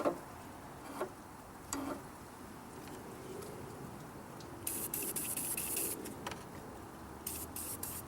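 WD-40 sprayed onto a rusted part in short hissing bursts, faint and close, with a couple of longer sprays and small ticks and clicks in a quiet setting.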